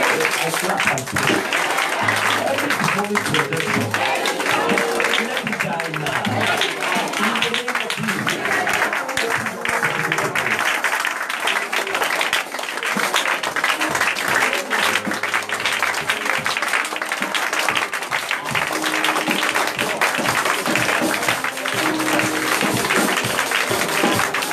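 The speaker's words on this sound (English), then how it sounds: "When I clap and pray." Continuous clapping and crowd noise fill a prophetic prayer gathering, a dense steady wash of hands and voices that carries on without pause.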